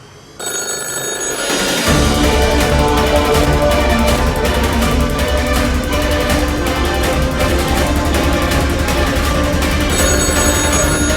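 A telephone bell rings continuously and loudly in an office in a film, a dense metallic trill that sustains without pause after a brief quiet start.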